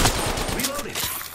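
Rapid bursts of gunfire from the video game Apex Legends, a dense fusillade of shots filling the whole moment, loud and close with a voice faintly underneath.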